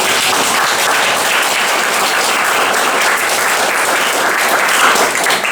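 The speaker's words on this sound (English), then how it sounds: "Please give a round of applause for Jen and Sarah." Audience applause at a community event for walkers heading to COP26, loud, dense and sustained clapping that stays steady for more than five seconds without talk.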